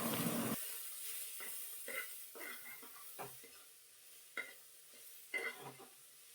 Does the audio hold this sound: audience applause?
no